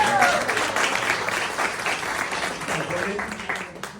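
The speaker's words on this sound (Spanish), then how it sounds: "Un aplauso para Ivette, que está sustituyendo a Alicia." Audience applauding Ivette, a stand-in presenter at a Spanish motivational talk, a broad roar of clapping that starts strong and slowly tapers, with a voice briefly audible at the start.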